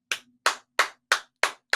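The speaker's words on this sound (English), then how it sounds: "A clap on the right side." Six sharp, evenly spaced claps ring out in unison from a summer school group, each a crisp single hit with silence between, close and fairly loud.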